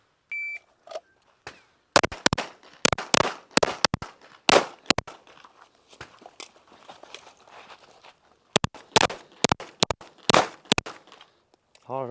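Sharp, loud pistol shots from a Glock 17 ring out in quick clusters during a timed shooting course of fire, after a short electronic timer beep, with brief pauses between strings of rapid shots.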